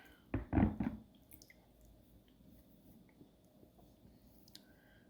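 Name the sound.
wetting a prairie agate rock with water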